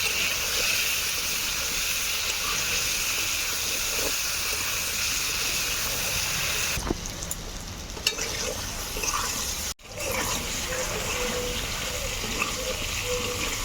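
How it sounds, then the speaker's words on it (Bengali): Ash gourd (chalkumra) pieces seasoned with turmeric and salt frying in hot oil, a loud continuous hissing sizzle close up, briefly dipping and with a short sharp break partway through before resuming. "এবারে ভেজে নেব চাল কুমড়াটাকে"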